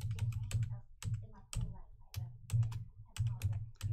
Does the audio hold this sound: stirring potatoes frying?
no